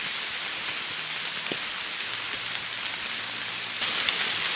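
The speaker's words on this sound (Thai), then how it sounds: "นี่ ฝนตก นะ พา แบบลำบากไปใหญ่เลย" Steady rain falls in a bamboo forest, a dense continuous hiss of drops on leaves and ground, close and even throughout, with no talking.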